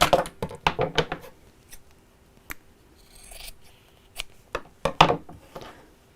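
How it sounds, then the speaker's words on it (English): Sharp scissors snip close by, making a handful of crisp, uneven cuts as they trim the excess seam allowance from a quilted fabric pouch. There are brief quiet gaps and faint handling noise between the snips. "then you trim off the excess seam"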